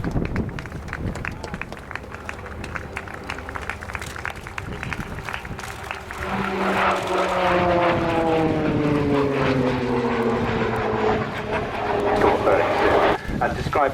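Short Tucano T1 turboprop of the Royal Air Force flying a display at the Royal International Air Tattoo 2013, its propeller drone rising and changing pitch as it rolls and pushes away, under a commentator's voice and crowd noise.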